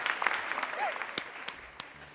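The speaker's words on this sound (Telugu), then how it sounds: "కొట్టండి చప్పట్లు." Studio audience applause on a televised game show, a steady burst of clapping from a crowd that runs throughout, with a host's voice briefly heard over it.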